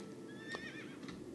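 A horse in the World of Warcraft video game gives one quick, bright neigh that wavers and trails off, fairly faint, with no talking over it.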